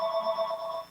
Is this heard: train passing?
no